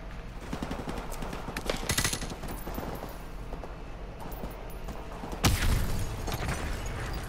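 Machine gun fire in Modern Warfare Remastered, sustained automatic bursts at moderate distance with rattling mechanisms, and a sharper loud blast or impact midway before the firing carries on.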